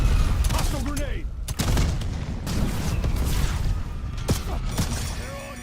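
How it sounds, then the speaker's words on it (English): A grenade detonates in a video game firefight, with a heavy boom standing out among scattered sharp gunshots and rattling bursts; a voice speaks briefly over the chaotic battle noise. "Hostile grenade."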